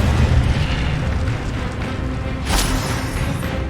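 A fiery Incendio spell blast from Hogwarts Legacy, heard as a roaring, whooshing burst of flame over a steady rumbling background, with a sharper flare about two thirds of the way through.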